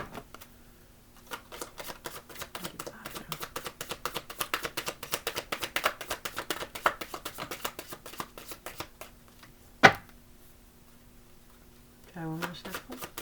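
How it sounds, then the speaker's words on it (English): Rapid, rustling card shuffling riffles on steadily for several seconds, close by, then stops; a sharp tap and a short voice follow near the end. "Try one more shuffle."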